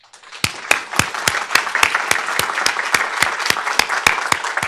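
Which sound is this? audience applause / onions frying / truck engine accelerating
audience applause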